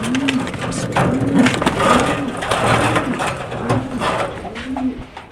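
Roman pigeons coo in a steady, repeated rhythm of low rounded calls, close and clear above a background of rustling and shuffling.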